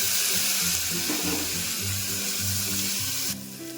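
Ginger garlic paste fries in a pan, a dense continuous sizzle close up with a low hum beneath it, steady throughout and dropping slightly at the very end.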